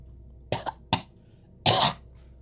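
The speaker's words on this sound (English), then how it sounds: "Water is just coming out of his mouth as he coughs it up." A man coughs up water several times in rough, wet bursts, two quick hacks and a longer harsh cough at the end.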